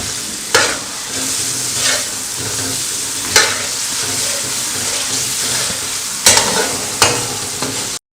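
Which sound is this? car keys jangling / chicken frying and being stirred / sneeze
chicken frying and being stirred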